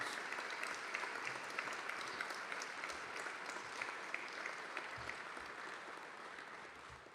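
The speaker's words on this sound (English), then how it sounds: "Give yourselves a well-deserved round of applause" A building dedication crowd gives a long, steady round of applause, even and continuous, heard from within the audience at moderate volume with no speech over it.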